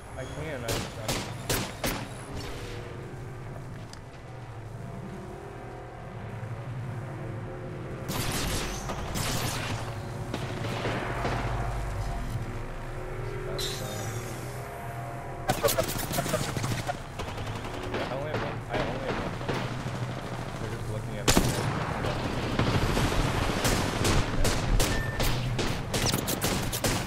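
Rapid bursts of gunfire from a first-person shooter video game, with repeated volleys and loud stretches of continuous shooting, with a player's voice talking over the action at times.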